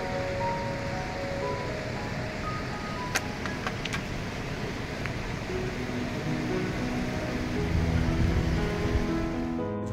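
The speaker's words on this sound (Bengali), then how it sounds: "ওপর থেকে ঝর্ণা থেকে প্রচণ্ড পরিমাণে জল নেমে আসছে নিচে" Torrent of a waterfall on the Annapurna Base Camp trek between Chhomrong and Dovan in Nepal, a steady, loud, broadband roar of rushing water that continues unbroken throughout.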